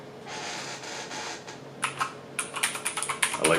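Typing on a Keychron K10 mechanical keyboard, close and fairly quiet, starting as soft scattered keystrokes and turning into a quicker run of crisp clicky presses toward the end, with no talking.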